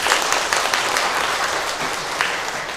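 A church congregation applauds during a Korean Easter Sunday worship service, a steady wash of many hands clapping that holds at an even, fairly loud level throughout.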